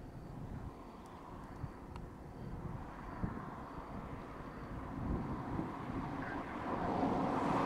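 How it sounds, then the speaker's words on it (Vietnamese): A China Southern Airlines airplane lands at Noi Bai airport, a low rumbling roar that builds gradually toward the end, heard from a distance with wind noise. "Chiếc máy bay đang hạ cánh có vẻ là máy bay của hãng China Southern Airlines, hàng không phương Nam Trung Quốc."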